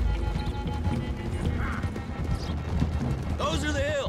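Horses galloping in Red Dead Redemption 2, steady hoofbeats under continuous game action, with a horse whinnying loudly near the end.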